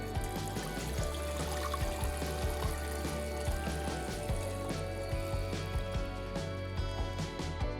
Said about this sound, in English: All right, I'm gonna add water.